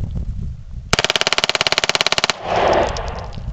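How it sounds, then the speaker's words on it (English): Full-auto Beretta 93R pistol firing one rapid burst of roughly twenty sharp, evenly spaced shots, loud and close, after a quiet outdoor lead-in and followed by a wash of noise and echo. "here's Matt shooting the full auto Beretta 93R"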